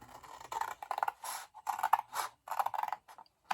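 Scissors or a blade cutting a wedge into a large reinforced cardboard box, repeated short crunching snips in a steady rhythm, close and quiet.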